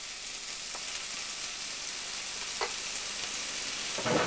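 Onions frying in a pan for a bread roll filling, giving a steady close sizzling hiss throughout with a few faint pops and a slight swell near the end.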